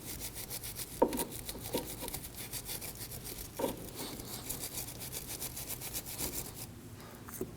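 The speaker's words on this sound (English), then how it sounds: "and then I'll get in there with a brush." A brush scrubs a dowel on a 2003-2006 Subaru Baja 2.5L H4 engine with brake parts cleaner, making rapid, steady back-and-forth rasping strokes up close with a few louder knocks.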